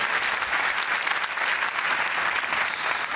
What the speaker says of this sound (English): Big round of applause, please, for Raj Nair